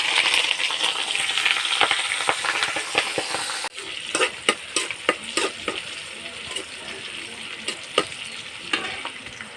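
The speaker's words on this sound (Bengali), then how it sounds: "বোম্বা মরিচ দিয়ে আম দিয়ে আচার বানানোর জন্য প্রথমে আমি মরিচটা ভেজে নিব" Bombai chillies frying in hot oil for a raw mango pickle, a dense close sizzle that thins partway through, followed by sharp intermittent clinks and scrapes of a utensil against the pan.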